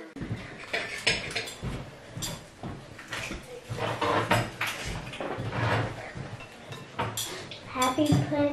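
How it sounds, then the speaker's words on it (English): Plates, pots and cutlery clink and clatter repeatedly as Christmas food is dished up in a home kitchen, with voices talking over the busy, close clatter. "And then I'll go dish up your food."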